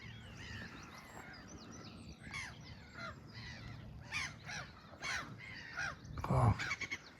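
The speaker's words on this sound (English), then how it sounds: "birds are noisy this morning." Crows calling on a morning riverside walk, a series of harsh caws repeating at irregular intervals, some distant and faint, others nearer and louder toward the end, over a quiet outdoor background.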